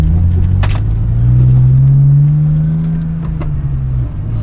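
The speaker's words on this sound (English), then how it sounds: "this is the first test drive since I got the poly mounts on" BMW E46 wagon on a test drive with new polyurethane engine and transmission mounts, a loud steady low engine drone inside the car that swells as it pulls, then settles, with faint clicks and no talking.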